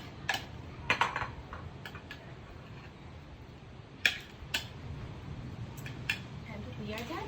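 Guacamole being spooned into a small bowl, with a few sharp clinks and taps of a utensil against the dish spread across a quiet kitchen background.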